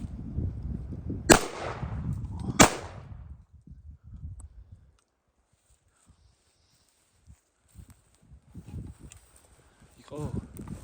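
Two sharp, loud gunshots crack about a second apart outside an underground shelter, each with a short fading tail, amid rustling and faint voices, then near silence before quiet talk resumes.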